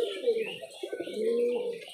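Giribaz pigeons kept for sale coo nearby in low, wavering calls that rise and fall over about two seconds, fairly close and moderately loud.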